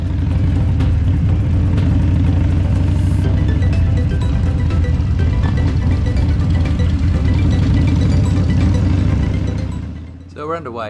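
A group of ten Harley motorcycles sets off on an ultra long-distance 700 km ride, their engines making a continuous deep, loud rumble that fades away in the final second.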